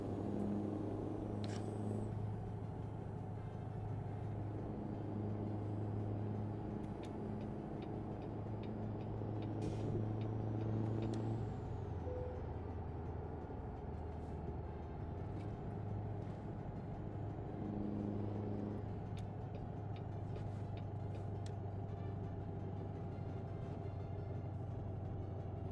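Trucks drive in American Truck Simulator, a steady low engine rumble and road drone with shifting tonal hums and occasional faint clicks, continuous and fairly quiet.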